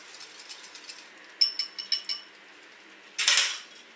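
Eggs are stirred quickly into sweet cinnamon pasta, aletria, in a pot, giving a run of rapid metallic clinks and scrapes and then one louder rattling clatter.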